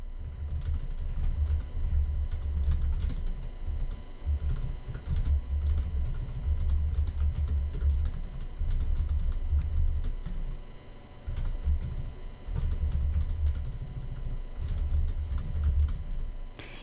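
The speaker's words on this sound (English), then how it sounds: "I'm going to type in some random words." Fingers type random words on a computer keyboard in a continuous run of close, brisk key clicks with small irregular pauses, lasting the whole stretch with no voices.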